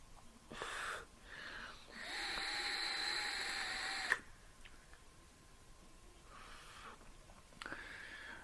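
Air is drawn through a Marvn RTA vape atomizer in several breathy, whistling pulls, the longest lasting about two seconds, close and fairly quiet, with brief pauses between draws.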